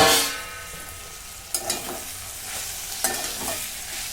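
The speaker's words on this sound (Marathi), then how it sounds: "हे सगळं परतून घेते" Ground coriander-cumin, garam masala, turmeric and red chili powder being sautéed for masala rice, a soft close sizzle broken by a few distinct scraping stirs of a spoon against the pan.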